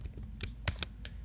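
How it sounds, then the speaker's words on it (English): Several quick key presses on a Mac computer keyboard, separate crisp clicks in a short irregular burst, close and quiet with no talking. "Shift Command P and then typing Markdown"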